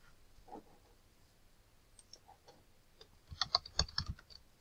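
Keys tapped on a computer keyboard while writing a letter, a few scattered faint taps early then a quicker, louder burst of typing near the end, alone without talk.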